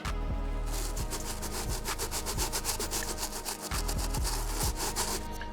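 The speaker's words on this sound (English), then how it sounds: "next brush we're gonna use is the stiff bristle brush. This is really gonna loosen up the dirt even more" A stiff bristle brush scrubbing an Off-White Dunks sneaker, loud close rasping strokes in a quick steady back-and-forth rhythm with a few heavier knocks, no talking.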